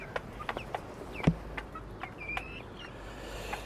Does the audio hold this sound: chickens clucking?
yes